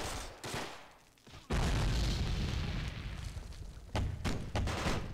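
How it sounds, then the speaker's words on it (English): A deep grenade blast in the fantasy strategy game Myth II: Soulblighter, a sudden loud boom rolling into a sustained low rumble, followed by further sharp bursts and pops near the end. "nice grenade there from Paris"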